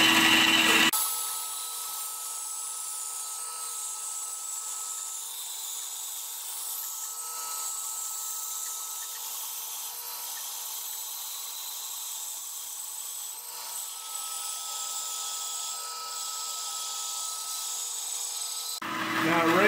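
Bandsaw slowly cutting through a wooden lampshade, a sustained high whining buzz with a faint tonal hum that holds steady for most of the clip, starting and stopping abruptly at either end.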